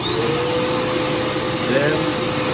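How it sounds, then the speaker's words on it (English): A vacuum cleaner runs as suction for a Flowbee haircutting attachment, giving a steady, loud, close whooshing roar with a thin high whine that holds without a break. "turn on the vacuum cleaner."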